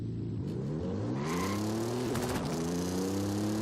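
The 4.3-liter V6 of a GMC Syclone in Forza Horizon 5, fitted with anti-lag turbos, revs up from idle in a rising, buzzy tone, dips briefly, then holds a steady higher note, loud and alone.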